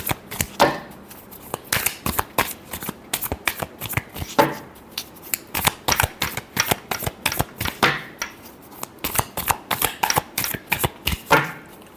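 Tarot cards being shuffled by hand, close and crisp, in repeated bursts of rapid riffling flutters separated by brief pauses, with no voices.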